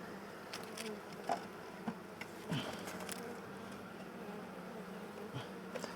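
Honey bee swarm buzzing at the hive during a late June beekeeping check, a steady close drone with individual bees zipping past the microphone.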